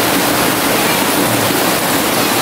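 Loud, steady rush of water gushing from a farm water tank, splashing continuously, close by, with no voices.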